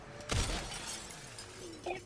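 Glass shatters in a video game with one sharp, loud crash followed by tinkling debris, then a faint second impact near the end.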